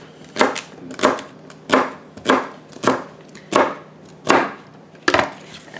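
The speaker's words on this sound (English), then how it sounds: "I'm just going to chop it into some small pieces." Knife chopping washed celery into small pieces on a cutting board, about nine crisp, evenly spaced thunks at a brisk, steady rhythm, close and clear.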